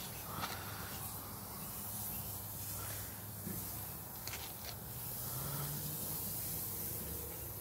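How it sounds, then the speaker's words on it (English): Steady, dense sizzling hiss of burgers on a hot coal-fired grill, broadband and continuous, with wind noise rumbling underneath and occasional brief pops. "You get to hear those sizzling"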